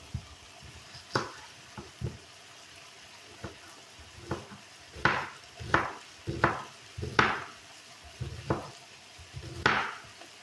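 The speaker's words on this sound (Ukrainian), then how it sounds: "Поки в мене м'ясо смажиться" Meat sizzles in a pan as a steady background hiss while sharp knife chops, cutting onion and carrot, land irregularly, clustering in quick bursts near the middle.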